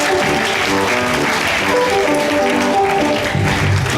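Steady, loud applause from a congregation fills a church wedding ceremony, continuous hand clapping with some voices mixed underneath.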